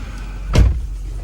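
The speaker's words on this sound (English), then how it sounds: "Close the door." A single solid thump as the door of a 2008 Ford F250 truck swings shut, heard close and short against a low background hum.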